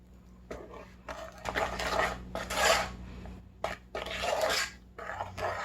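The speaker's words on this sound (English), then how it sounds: "Now time to stir in the peanut butter." A spoon stirs peanut butter into cookie dough in a bowl, giving soft rasping, scraping strokes in bursts with short pauses, close and fairly quiet.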